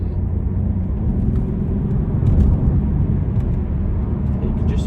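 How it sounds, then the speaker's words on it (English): A 2013 Jaguar XJ 3.0 SDV6 Portfolio diesel V6 saloon cruises along with a steady low engine and road rumble inside the cabin, smooth and even with a slight swell midway. "The diesel's really smooth, and yeah, I think it really suits this car"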